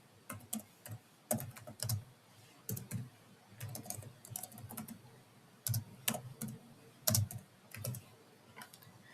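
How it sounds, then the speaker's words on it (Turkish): Keys clatter on a computer keyboard as a command is entered at a terminal to set up a Docker Compose system, coming in short irregular bursts of close, crisp clicks with brief pauses between them. "sistemin kurulmasını sağlayacak komutu yazıyorum"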